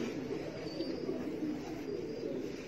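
Pigeons cooing in a low, steady murmur, a soft continuous warble close by that stays even throughout, with no speech over it.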